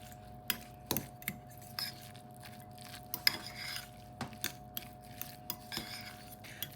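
Tuna salad mixed with seasoning in a bowl, a utensil scraping and clinking against the bowl in irregular, fairly quiet strokes with a faint steady hum beneath.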